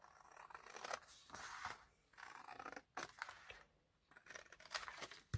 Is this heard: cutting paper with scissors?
yes